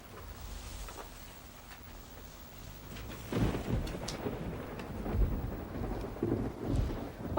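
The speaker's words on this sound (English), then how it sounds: "but it's raining" Steady rain hisses while low thunder rumbles and cracks nearby, growing louder in the second half.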